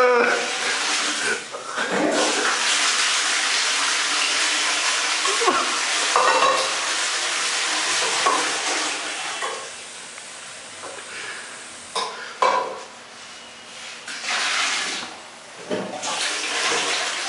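A toilet flushes away a batch of khichdi, a long gurgling rush of water with splashing and swirling that swells and fades, while people talk nearby.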